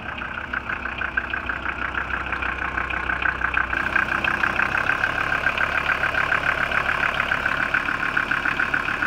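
A Mercedes W126 300SD diesel idles steadily with a rough, even clatter, close and continuous for about nine seconds, a little louder after the first few seconds, with no voices.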